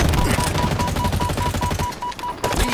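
Rapid automatic gunfire in Halo Infinite multiplayer, a loud close stream of evenly spaced shots with a steady tone running beneath it, cutting off briefly near the end.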